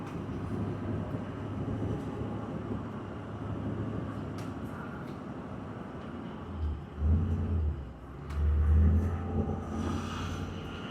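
A bus engine rumbles steadily while driving down a mountain road toward Cedar City. The low drone swells louder toward the end, with road noise and faint rattles.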